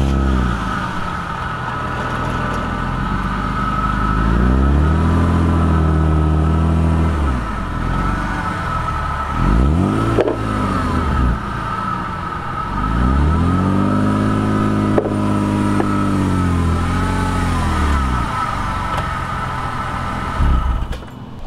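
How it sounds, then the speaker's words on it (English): BMW E36 car engine idling and revving as the car drives onto low ramps, with repeated swelling and falling engine notes, close and fairly loud, no talking. "I'll put the E36 onto the little ramps over here"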